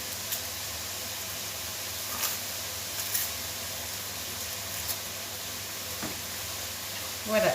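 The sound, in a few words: bacon roasting and sizzling in a pan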